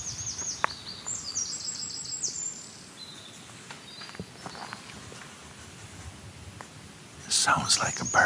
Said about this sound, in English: It sounds like a bird.